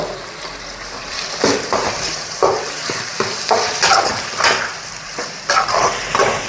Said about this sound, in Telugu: ఆయిల్ ఈ టమాటా ముక్కల నుంచి, ఉల్లిపాయ ముక్కల నుంచి కొంచెం పైకి వచ్చేంత వరకు వేగాలి.